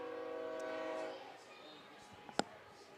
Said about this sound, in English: Here comes that train I was talking about again for its second round.